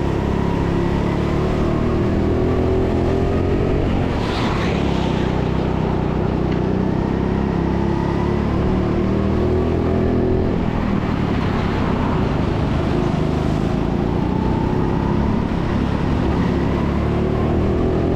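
Go-kart engines drone steadily on the TeamSport Sheffield indoor track during a lapping race, a continuous close buzzing with shifting pitch as karts corner and jostle, with no talking.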